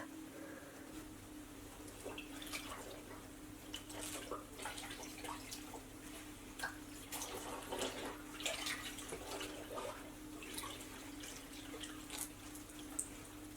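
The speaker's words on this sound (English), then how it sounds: "So I'm just going to wash some clothes out and then hang it up." Clothes being hand-washed in a basin of water in a mountain hut, with soft sloshing, drips and splashes over a low steady hum, faint and close with no talk.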